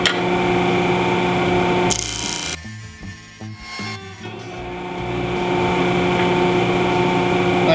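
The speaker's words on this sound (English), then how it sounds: "Now the hole I'm drilling is actually a little bit bigger than that" A drill bores a hole through a metal heat duct register, whirring steadily with a harsh grinding and rattling burst in the middle as the bit cuts through, then settling back to a running hum.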